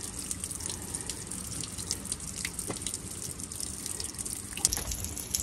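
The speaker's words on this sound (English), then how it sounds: "I'll let this drip out." Water drips and trickles from the drain of a Suburban water heater during anode replacement, a soft continuous watery patter with a few sharper drip taps, fairly quiet and close.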